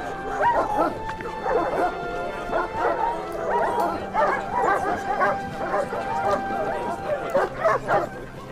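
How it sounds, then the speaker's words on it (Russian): A border guard dog barks in short yips and whimpers repeatedly at close range, the cries coming in an uneven, pleading rhythm throughout. "Это ж собака."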